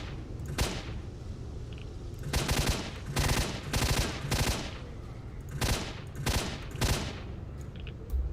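Gunfire in the video game S.T.A.L.K.E.R.: Shadow of Chernobyl, loud bursts of automatic fire in separate volleys with brief gaps between them.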